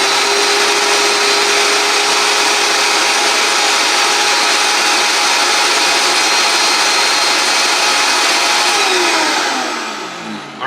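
A Vitamix vacuum blender fitted with a Void Systems carafe roars loudly and steadily on high speed for about ten seconds, then winds down with a falling whine as the motor stops.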